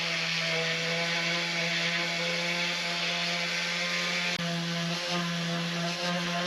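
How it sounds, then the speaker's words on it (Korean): A power sander runs continuously with a steady droning hum while finish-sanding wooden woodwork for a homemade camper, one brief dip near the end. "칠하기 전 마무리 샌딩기를 해줍니다."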